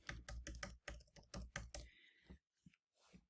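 A mobile number is tapped out on a computer keyboard, a quick run of close, crisp key clicks followed by a few slower, sparser presses.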